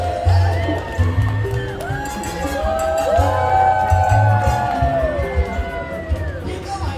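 A crowd on the San Antonio Riverwalk cheers and whoops at passing riverboat passengers, voices and shouts rising and falling over an outboard engine's low hum, with people talking nearby.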